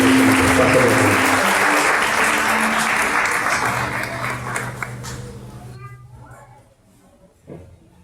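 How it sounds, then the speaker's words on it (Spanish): A church congregation applauds loudly and continuously, the clapping gradually thinning and fading to near silence over about six seconds, with a faint sound near the end. "Un fuerte aplauso a Dios."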